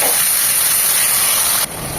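Ginger-garlic paste frying in a hot pan for egg khichuri, a loud close steady hiss of sizzling oil that drops slightly near the end, with no talking.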